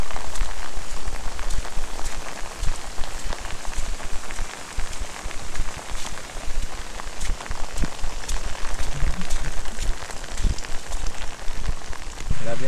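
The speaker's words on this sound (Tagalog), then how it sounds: "medyo malakas yung ulan" Heavy rain pours steadily onto surfaces at a motorcycle campsite on a farm in Tanay, a dense, loud, continuous hiss with scattered close drops and patters throughout.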